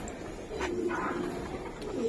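Old-breed Giribaz pigeons cooing at close range, a few soft low coos over a steady background murmur.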